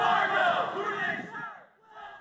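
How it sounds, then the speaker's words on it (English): Protest crowd on a Sunday night, many voices yelling and shouting at police in a dense, loud roar that thins briefly before a renewed burst of shouting. "Protesters yelling obscenities at police and more."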